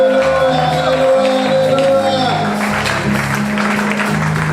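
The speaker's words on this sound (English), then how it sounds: "give the Lord a big clap of praise" A church congregation at a Sunday service in Lome, Togo, claps and cheers in praise, a dense continuous roar of applause and shouts with voices and music mixed in throughout.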